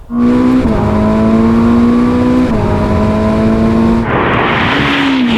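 A Ferrari SF90 hybrid with its V8 engine revs loudly and steadily, the tone dipping and rising between shifts with a rougher burst near the end, close and alone with no talk.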